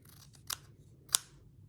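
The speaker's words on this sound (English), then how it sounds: "These are the scissors from the locked cabinet." Fabric scissors slicing through quilting fabric make two crisp, quiet snips about half a second apart against a faint room hum.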